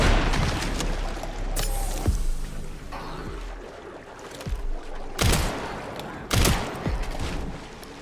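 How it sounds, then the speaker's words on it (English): Loud shotgun blasts boom in the Resident Evil Requiem video game, several heavy bursts spaced a second or two apart over a rumbling backdrop of game noise. "They tank the shotgun blasts."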